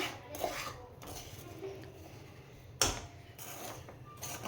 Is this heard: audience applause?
no